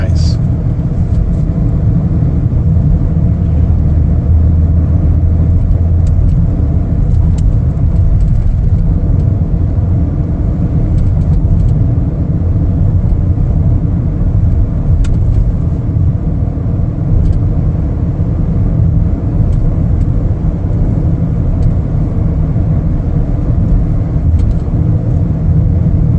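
A 2025 Chevrolet Equinox LT AWD on a test drive gives a steady low cabin rumble of engine and road noise, loud and continuous for the whole stretch with no breaks.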